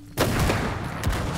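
Gunfire in a Chinese movie, a sudden loud volley of overlapping shots bursting in and continuing as a dense, rattling fusillade.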